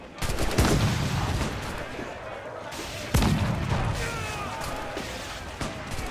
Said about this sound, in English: Got to kind of arc the shot a little bit. I'm not terribly good with these swivel cannons.